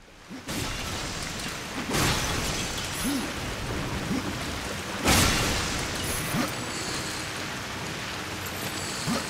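Continuous roaring waterfall in Darksiders II, a dense wash of falling water at moderate level, punctuated by several sharp impacts and whooshing game effects.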